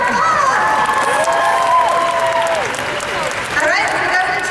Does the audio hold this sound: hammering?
no